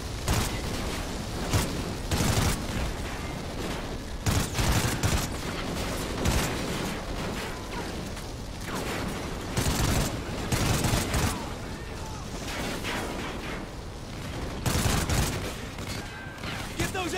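Sustained machine gun fire from the video game Call of Duty Ghosts, loud and continuous, with repeated heavier bursts throughout and voices talking beneath the battle.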